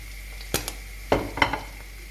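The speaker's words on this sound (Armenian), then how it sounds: "սունկը տապակվում է" Mushrooms fry in a pan with a soft, steady sizzle, broken by a few sharp scrapes and clatters of stirring utensils at close range.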